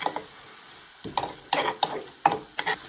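Quiet sizzling as flour fries in fat in a pan, with a spoon or utensil scraping and stirring in short, irregular strokes.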